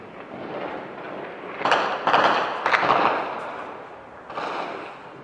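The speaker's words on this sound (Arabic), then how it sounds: "إطلاق نار بشكل عشوائي" Several sharp gunshot bursts crack in quick succession over a noisy background, then one more shot after a short pause, sounding somewhat distant; random gunfire in Daraa al-Balad, Syria, 2012.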